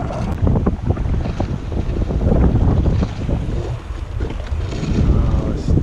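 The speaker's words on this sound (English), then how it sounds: "Oh, stop it, wind." Strong wind buffets the microphone while kayak fishing in choppy water off central Queensland, Australia, a continuous loud rushing roar with gusty surges and faint water sounds beneath.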